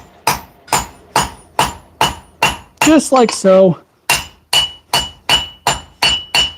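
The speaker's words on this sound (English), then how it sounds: "So let's just hammer away." Steel is hammered to forge a Danish dagger, with sharp ringing metallic strikes in a steady rhythm, close and loud, broken midway by a short spoken phrase before the blows resume.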